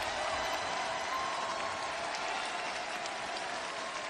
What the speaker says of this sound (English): Thousands of people here on their feet clapping in appreciation for these two athletes.